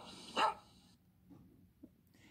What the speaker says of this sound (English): Here's a dog barking.